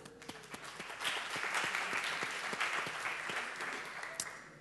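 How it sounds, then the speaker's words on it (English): A conference audience breaks into brief, moderately loud applause, a dense patter of many hands that swells and then fades over a few seconds, heard from within the hall. "why are you clapping at this?"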